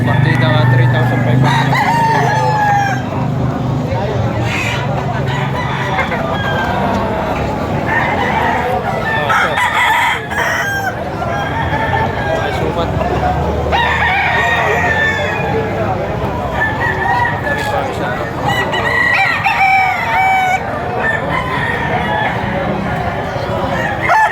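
Several roosters crow repeatedly among clucking fowl at a rooster market in Padre Garcia, Batangas, with people talking and a busy crowd murmur throughout.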